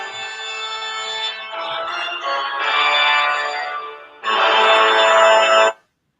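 A mobile phone ringtone plays a loud, clear electronic melody in repeated bursts that stop abruptly, with no voices over it.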